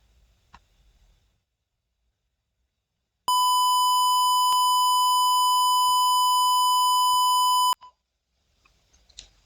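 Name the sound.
ESP32 smart home buzzer sounding alarm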